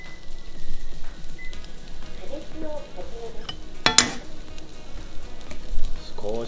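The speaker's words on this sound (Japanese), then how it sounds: "少しだけオイルをまた垂らします。こういう感じです。 これで温める、ゆっくり焼きます。" Shanghai fried noodles fry in sesame oil in a pan, giving a steady sizzle with stirring and a few pan clinks, plus a sharp crackle near the middle, and no talk over it.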